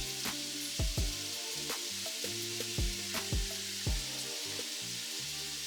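Chicken and vegetables stir-frying in garlic butter with a splash of sesame oil for a chicken veggie pad thai, a loud continuous sizzle punctuated by sharp, regular spatula clacks against the pan, close up with no talk.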